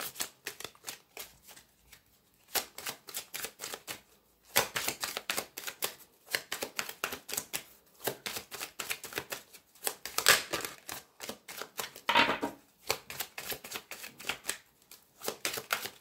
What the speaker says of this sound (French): on va couper le jeu et on va avoir les choix et la carte de l'échec